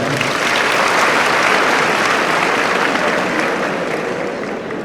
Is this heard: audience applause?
yes